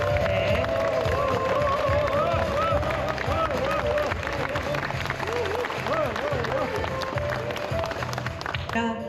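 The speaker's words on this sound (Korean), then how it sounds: "박수 부탁드리겠습니다." At a building dedication ceremony, guests clap in sustained, moderately dense applause under a background of voices and a tonal hum, with people talking throughout.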